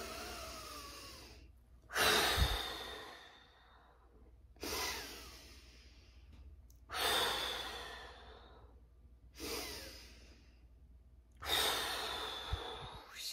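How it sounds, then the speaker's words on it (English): Slow, deep breaths in and out, six long airy exhalations and inhalations alternating in a calm, even rhythm, close and fairly quiet with pauses between. "Take a deep breath in."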